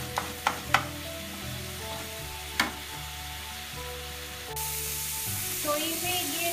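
Red amaranth greens stir-frying in a pan, a soft continuous sizzle with a few sharp utensil knocks early on, close and moderately quiet, the hiss swelling brighter near the end.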